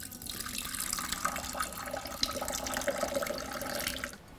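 Tap water runs over tea leaves being rinsed at a kitchen sink, a continuous splashing trickle close by that cuts off at the end.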